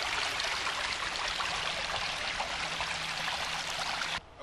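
Stream water pouring over an eroding head cut near an engineered wetland, a loud, continuous close-up rush and gurgle of flowing water that cuts off abruptly near the end.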